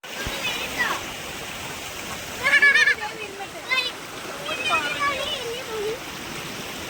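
Rainwater rushes and splashes over a flooded small road during a rainy day, a steady wash of flowing water close by, with voices talking over it.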